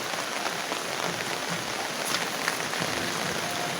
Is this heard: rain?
yes